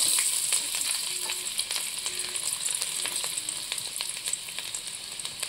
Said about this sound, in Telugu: తెల్లగడ్డలు అల్లంని సన్న ముక్కలుగా కట్ చేశాను. వీటిని రెండిట్లు నూనెలో వేస్తాను.